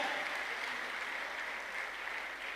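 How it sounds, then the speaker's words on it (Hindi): Steady applause from an audience at a gathering welcoming a guest, a dense, even wash of clapping sustained throughout without pause. "जोरदार तालियां बजाइए, जोरदार सर के लिए"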